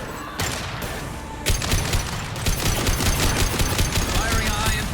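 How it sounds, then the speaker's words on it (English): Rapid bursts of gunfire from Mass Effect 2 Legendary Edition, a sparse opening then dense repeated shots from about a second and a half on, loud and close. "Firing a high-impact shot."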